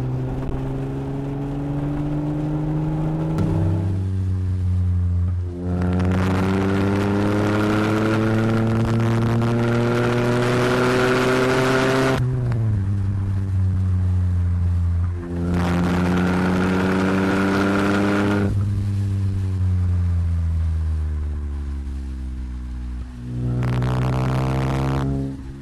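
A Vauxhall Cavalier GSi 4x4 fitted with a 3.0 V6 engine accelerates hard through the gears on a snowy mountain road, each loud, rising engine pull broken by a brief dip at the shift, repeating several times without talk.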